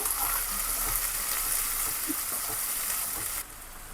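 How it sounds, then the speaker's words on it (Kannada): Cumin and finely chopped onion sizzle in hot oil for paneer bhurji, a dense, continuous frying hiss with faint stirring knocks, close and steady, dropping slightly near the end. "ಜೀರಿಗೆ, ಚಿಕ್ಕದಾಗಿ ಕಟ್ ಮಾಡ್ಕೊಂಡಿರೋಂಥ ಆನಿಯನ್ ಹಾಕಿ ಚೆನ್ನಾಗಿ ಮಿಕ್ಸ್ ಮಾಡ್ಕೊಳ್ಳಿ"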